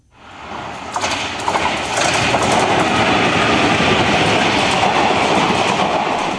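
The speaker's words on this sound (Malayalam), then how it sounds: "കാരക്കാട് റെയിൽവേ സ്റ്റേഷനിലൂടെ നിരവധി ട്രെയിനുകൾ കടന്നു പോകുന്നുണ്ട്" A train passes through Karakkad railway station, its loud, steady rolling rumble and clatter of wagons building quickly in the first second and then holding close and continuous to the end, with no voices.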